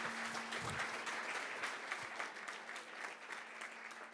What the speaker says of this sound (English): An applause for our speaker again.